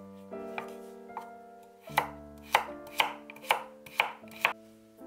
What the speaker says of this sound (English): Cut 200 grams of carrots into small cubes.